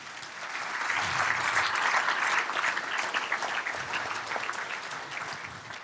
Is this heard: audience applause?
yes